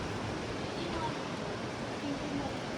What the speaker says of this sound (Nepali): शङ्खुवा खोला कल कल कल कल